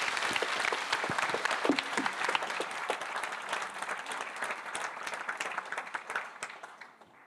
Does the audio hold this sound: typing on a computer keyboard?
no